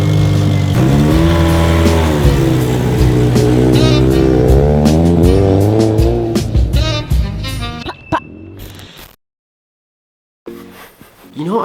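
A Mazda RX7 on new white wheels idles and revs loudly up close, its engine drone wavering in pitch for several seconds before dropping away into a brief silence and returning, with people talking over it.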